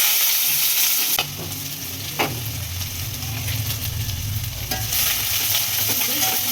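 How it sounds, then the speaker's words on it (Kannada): Chopped onion fries and sizzles loudly in a pan while being stirred, with scraping strokes over a steady hiss, for fried rice made without sauces. "ಈಗ ಆನಿಯನ್ ಹಾಕ್ಕೋತಾ ಇದ್ದೀನಿ."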